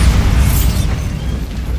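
Bombarda spell explosion in the video game Hogwarts Legacy: one loud, deep blast with a rumbling low boom that fades over about two seconds.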